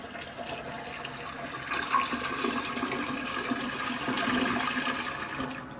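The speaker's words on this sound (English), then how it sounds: "We're officially allowed to flush." A toilet flushing after automatic bowl cleaner tablets were added to the tank, a steady rushing swirl of water that swells midway and holds fairly loud for several seconds, with no talking.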